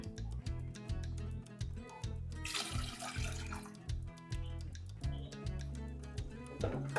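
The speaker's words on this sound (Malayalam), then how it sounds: "ഇതിനകത്ത് കുറച്ച് വെള്ളം ഊറ്റിയെടുക്കാനുള്ളതല്ലേ, കുറച്ച് വെള്ളം ഒഴിച്ചു കൊടുക്കാം" Water gushes into a cooking pot of cassava for about a second, a rushing splash over rhythmic background music.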